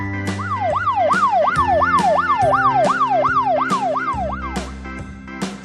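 A police car siren wailing in a fast, repeating rising-and-falling yelp, loud and close, with a few percussive beats and tones sounding along with it.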